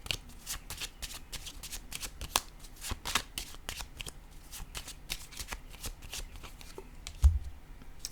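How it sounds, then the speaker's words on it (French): Oracle cards being shuffled and drawn by hand, close crisp flicks and riffles in quick irregular bursts, with a soft thump as a card is set down near the end. "Je vais piger une petite carte sur le soleil."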